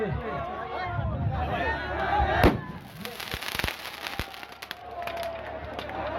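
A firecracker bursts outdoors with a sharp crack, followed by a scatter of smaller pops and crackles among a chattering crowd, with people talking throughout.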